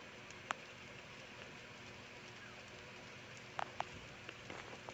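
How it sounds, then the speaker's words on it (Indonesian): Light drizzle falling on a grassy mountain ridge near the summit of Mount Kelud, a soft steady patter with a few sharper drops landing nearby. "ternyata turun hujan gerimis"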